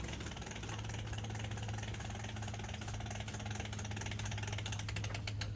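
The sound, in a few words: cranking open a cantilever patio umbrella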